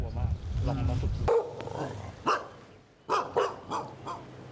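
Stray dogs at a navy-run dog shelter bark in a burst of several sharp, fairly close yelps, with a low rumbling background noise early on and a speaking voice around them.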